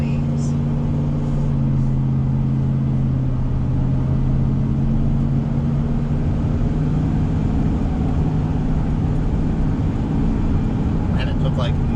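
A Chevrolet Silverado pickup converted from V6 to V8 cruises on a highway, its engine and road noise a steady, loud droning hum inside the cab.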